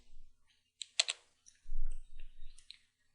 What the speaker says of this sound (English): Type in ls and hit enter.